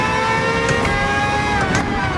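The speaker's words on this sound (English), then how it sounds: "This car is so ridiculously loud." A race car in Gran Turismo 7 drives at high revs, a loud continuous engine whine with strong steady harmonics and a few brief transient bursts.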